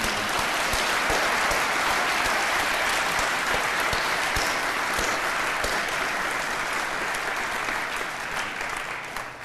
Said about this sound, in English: let's hear a round of applause for the parents